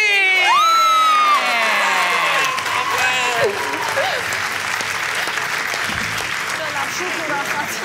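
A lively crowd applauds and cheers for the winning team at a sports club contest, with whoops and shouts rising loudly at first and then settling into steady clapping under excited voices.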